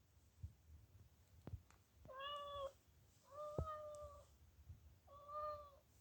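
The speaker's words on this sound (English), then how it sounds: "it just makes like regular cat sound effects" Three short, tonal meows from a toy cat, with a few sharp knocks and handling taps before and between them in a quiet room.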